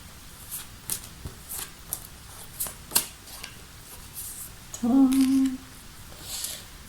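Tarot cards shuffled and handled as a replacement card is drawn, with soft, irregular riffling and scraping ticks and a brief brighter tone partway through, all quiet and close.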